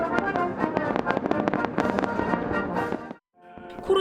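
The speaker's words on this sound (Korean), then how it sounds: "밤이 되자 불꽃놀이가 하늘을 수놓습니다." Independence Day fireworks over the White House lawn at night: a dense, continuous barrage of crackling bursts and pops, loud and close, that cuts off abruptly before a few more bangs resume.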